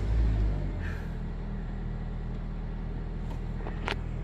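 A Honda Civic on a ramp starts with a brief low rumble and settles into a steady, even idle hum, close by, with a couple of faint clicks and no talking.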